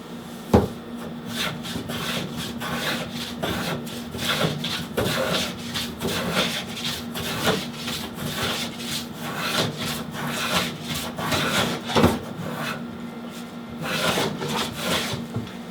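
Cedar being cut by hand at a makeshift workbench, a steady back-and-forth sawing rhythm with rasping wood strokes running continuously at close range, with a sharp knock near the start.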